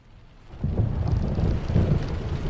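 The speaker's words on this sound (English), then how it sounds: "The storm rolled in." A thunderstorm rolls in with a deep low rumble of thunder swelling after a quiet moment, over a steady wash of rain and wind, moderately loud and without talk.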